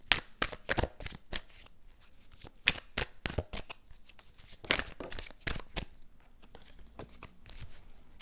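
Tarot cards shuffled and laid down on a table for a reading, giving a run of crisp riffling and slapping bursts through the first six seconds before the sound thins out to quiet handling.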